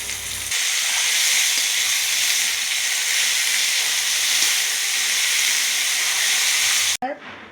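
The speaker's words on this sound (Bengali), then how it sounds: "এবারে একটু ভাজি।" Carrot, beans, cauliflower and capsicum fry in a pan with a loud, steady hiss that runs for nearly seven seconds, ending in a sudden break and a brief clatter.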